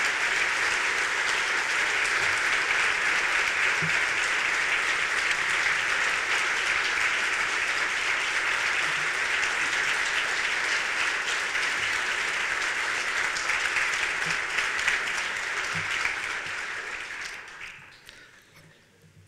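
An audience at a Rotary Club meeting in Louisville claps to honor its Unsung Heroes. The dense, sustained applause holds steady for most of the stretch, then thins and fades out near the end.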